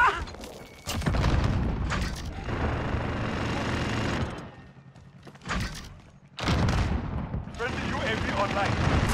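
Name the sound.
grenade explosion and gunfire in Modern Warfare video game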